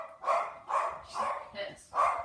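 An elderly dog, about thirteen and a half years old, barks five times in an even rhythm, close by and moderately loud.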